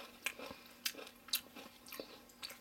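Crisp bites into a bite-size, crunchy garlic and onion snack, about five or six sharp crunches spaced roughly half a second apart, close up with no talking.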